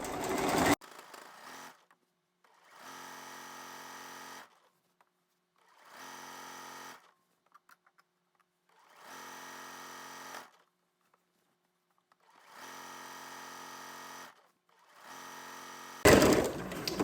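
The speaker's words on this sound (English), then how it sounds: "I am sewing 1/8 of an inch down, or 1/8 of an inch up from that fold." A sewing machine stitches a skirt hem in several separate bursts, each a steady whirring run of a second or two with quiet pauses between, close and clear; brief handling noise at the start and end, no talking.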